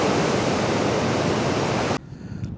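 Water rushes loudly through the open dam gate at Lake Kerkini in Greece, a dense, steady roar close by that cuts off abruptly, leaving faint background noise.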